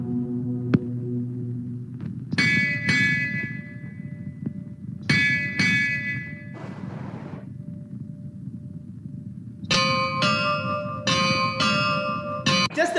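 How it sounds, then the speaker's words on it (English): A calling bell from the background score of the film Swarnakamalam rings in several clear, resonant bursts separated by gaps, with sustained tones and a low hum underneath. "just the bell sound, just listen to the bell sound, that is the calling bell also here."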